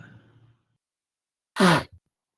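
A single loud, sharp sneeze bursts out after a quiet pause, preceded by faint murmuring and followed by a tiny trailing sound.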